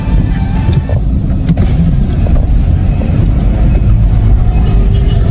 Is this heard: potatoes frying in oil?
no